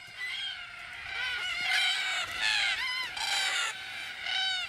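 Cockatoos gathered at an evening watering hole raise a boisterous chorus of raucous, harmonic screeches that overlap continuously, fairly close and loud.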